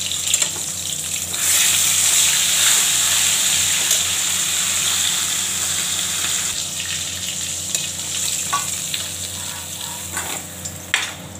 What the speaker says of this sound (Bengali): বড়ি ভেজে নিচ্ছি।